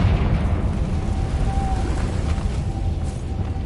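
A Confringo fire spell in Hogwarts Legacy bursts into a rumbling explosion, a dense, loud roar that holds steady for a few seconds with no talking.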